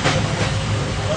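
Passenger train running on the rails on an overnight journey toward New Jalpaiguri, India: a steady low rumble with broadband rattle, continuous and close throughout the short stretch, with no clear talk.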